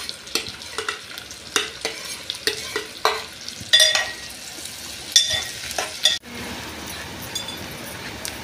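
Onions frying in oil for a chicken curry, with a steady sizzle under repeated clinks and scrapes of a spoon stirring in the pan, close and fairly loud, with no talking.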